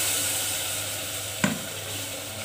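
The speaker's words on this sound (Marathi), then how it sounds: "जिरे आणि थोड्याशा मोहरी आणि थोडी हळद टाकायची" Cumin, mustard seeds and turmeric sizzle in hot oil with a steady, close frying hiss and one brief clatter partway through.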